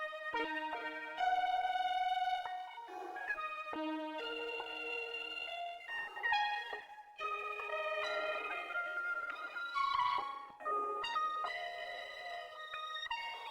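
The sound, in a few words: eerie ear candy synth sound layered over trap beat chords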